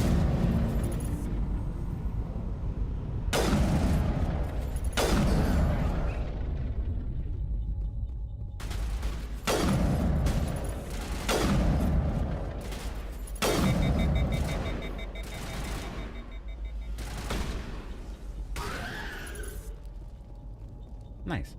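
Gunfire and heavy explosions in the video game Mass Effect, with repeated loud booming blasts and rumbling bursts spaced every couple of seconds over continuous combat noise, while a person talks over the action.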